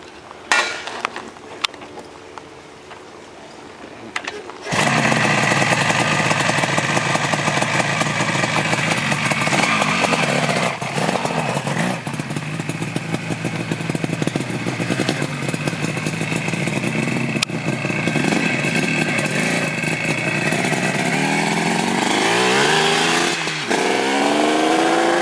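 A cold 1977 Yamaha RD400 two-stroke motorcycle engine fires up after a few seconds of quiet clatter, then runs loud and steady at a fast, buzzing idle close by, holding a raspy drone until the end.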